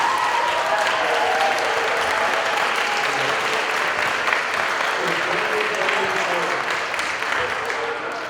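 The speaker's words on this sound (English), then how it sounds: "Can we give her a round of applause, please?" An elementary school audience gives sustained applause, a dense, even wash of clapping that continues throughout and eases slightly toward the end.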